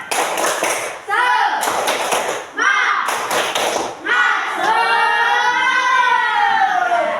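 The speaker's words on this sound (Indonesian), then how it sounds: "Tepuk semangat." Schoolchildren in a classroom perform a rhythmic spirit clap: three loud bursts of clapping in quick patterns, each answered by their chanted voices, ending in a long shouted group cheer.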